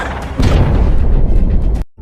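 A torpedo strikes a submarine resting on the seabed in a film: a deep, loud blast lasting under two seconds with a rumbling low end, then cutting abruptly to near silence.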